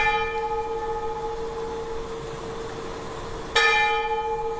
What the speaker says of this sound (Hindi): ये प्रसादम की घंटी है, इज इट?